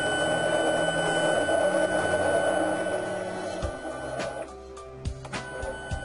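A Fargo HDP5000 card printer runs its feed rollers on an alcohol cleaning card, giving a steady mechanical whir that drops away, followed by a few sharp clicks and thumps.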